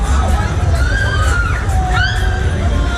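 Riders scream on the Skater ride at the Rheinkirmes fair in Düsseldorf, 2023, with several high, rising and falling shrieks over a loud, busy crowd and machinery din.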